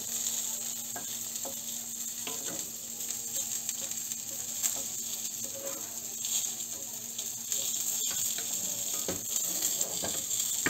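Beans in tomato sauce sizzle and bubble in a frying pan while a spoon stirs them, a steady close frying hiss with soft scraping and occasional clinks throughout.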